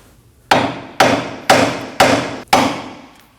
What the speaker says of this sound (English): Using a hammer, we're gonna go ahead and tap on this area.